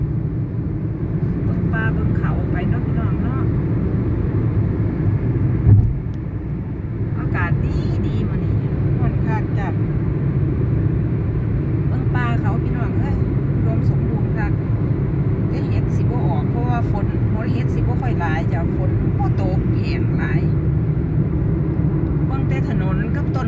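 Car driving on a mountain road through forest in Sweden, heard from inside as a constant loud engine and road rumble, with people chatting over it and a brief bump partway through.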